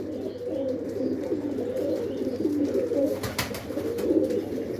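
A breeder's pigeons coo in winter, a soft, steady and continuous chorus of many birds close by, with faint background noise and no talk.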